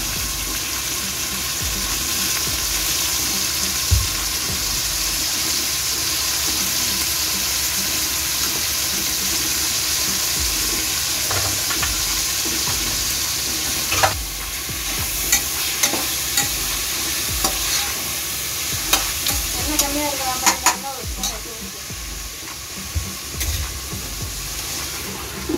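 Chicken biryani base of onion, tomato and coriander sizzles steadily in a hot pan, a continuous hiss with occasional clicks and utensil scrapes, briefly joined by bubbling near the end.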